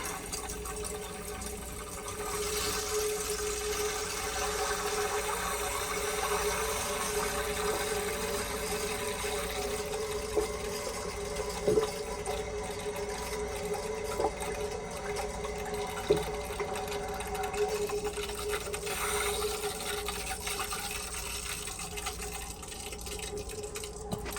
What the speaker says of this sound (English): Turn this on so maybe we can start sending some hot water in there as well.